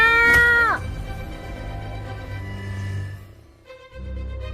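A cat meows in a Hindi comedy sketch set in a jungle, one loud drawn-out meow at the start followed by quieter low rumbling background sound.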